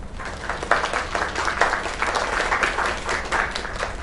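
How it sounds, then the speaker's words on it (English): A video game crowd applauding steadily, dense clapping that holds at a fairly even level throughout without any voices rising above it. "Another round of applause."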